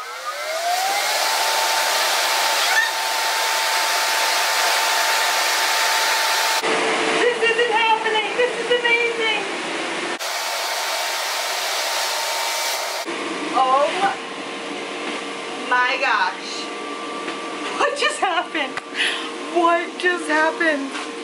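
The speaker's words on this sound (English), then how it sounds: "Now do you leave the air blower on the whole time?" Electric air blower inflating an indoor bedroom trampoline, a loud steady motor whoosh droning throughout, with excited voices talking over it in bursts.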